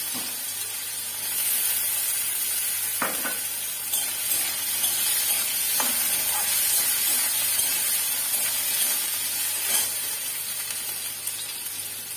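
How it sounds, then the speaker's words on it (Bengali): Potatoes frying in oil in a kadai: a continuous, even hiss and sizzle that lasts throughout, with a few soft knocks from the pan. "কড়াইতে তেল দিয়ে আলুটাকে ভেজে নেব।"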